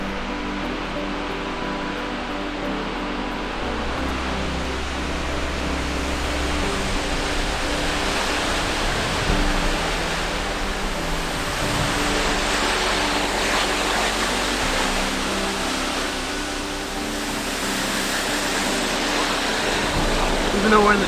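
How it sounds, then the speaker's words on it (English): A desert waterfall in Grand Staircase-Escalante National Monument gives a constant, even rushing roar of falling water. It holds steady for the whole stretch, with faint low rumbles beneath. "I'm almost certain we can hear the waterfall right around this corner."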